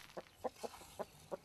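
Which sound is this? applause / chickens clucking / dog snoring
chickens clucking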